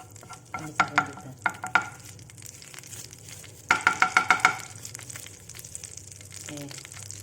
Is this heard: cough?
no